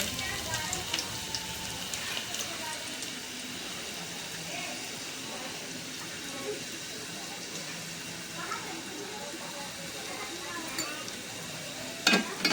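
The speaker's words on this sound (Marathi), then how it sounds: "लसूण चांगली परतवून घेऊया" Garlic sautéing in hot oil in a pot as the tempering for a Malvani bangda fish curry gives a steady, close, crackling sizzle throughout, with a couple of light utensil clinks near the end.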